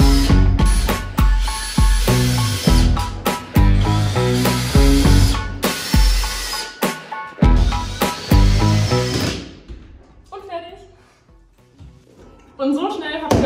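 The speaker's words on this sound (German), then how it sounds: "Jetzt kommt noch das Eckelement und das wird dann gleich hier mit der Nut verschraubt." A wall panel corner element is screwed into its groove, with repeated short bursts of a power driver and clattering handling noise, close and loud, fading to quieter fiddling sounds near the end.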